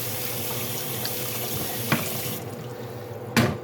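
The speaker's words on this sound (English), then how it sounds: "Let me just rinse it out a little bit." Running tap water rinses a fufu spoon in a kitchen sink, a steady close rush of water broken by two brief clunks of the spoon against the basin.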